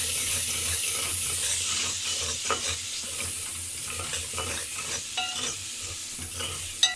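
Spices sizzle and fry in a pan for chicken korma while a spoon stirs them, giving steady crackling hiss with scattered scraping clinks, close and continuous, with no talking.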